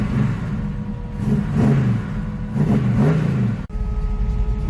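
A 1966 Chevelle with a 327 engine runs and revs, its mid-pitched rumble rising and falling in several close, loud revs with a slight stumble, then settling to a steady idle.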